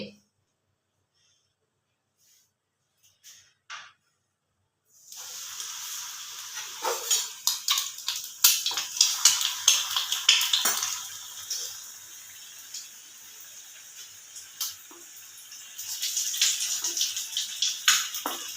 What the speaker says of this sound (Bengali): তো আমি এই ময়দা মিশানো ডিমটা দিয়ে দেব তেলে